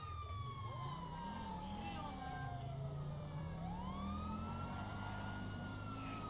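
Wailing police siren from a stolen cop car in GTA 5, long gliding tones rising and falling over a low engine hum, steady and prominent throughout.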